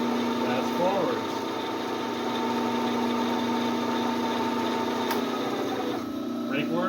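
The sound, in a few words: Bridgeport milling machine running forwards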